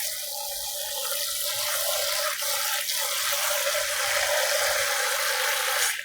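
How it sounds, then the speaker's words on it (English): Grated potato for Korean potato pancakes (gamjajeon) being rinsed under a cold kitchen tap: a steady, close hiss of running water splashing into a bowl in the sink, continuous for several seconds with no talking. "if you want to make more crispy gamjajeon, first rinse this one with cold water"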